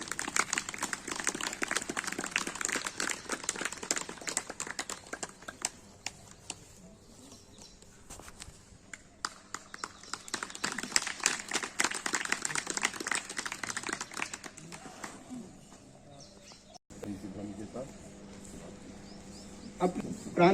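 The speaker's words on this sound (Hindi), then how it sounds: "तालियों से स्वागत होना चाहिए।" Audience clapping to welcome a guest onto the stage at a community diabetes prevention camp in Meerut, dense applause rising and falling in waves with voices mixed in.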